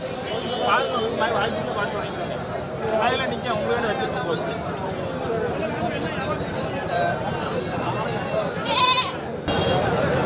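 A goat kid bleats at the crowded Melapalayam goat market. Its short cries come through busy, overlapping talk from nearby traders.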